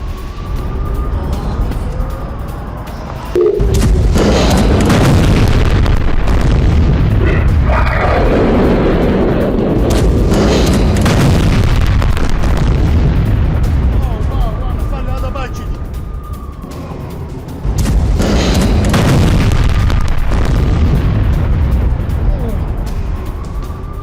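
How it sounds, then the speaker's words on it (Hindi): Deep, rumbling explosions in Tel Aviv after a rocket attack boom and roll on for long stretches, loud and sustained, with a brief lull between two heavy bursts and voices faintly mixed in. "रॉकेट अटैक के बाद तेल अवीव में भी बड़े धमाके"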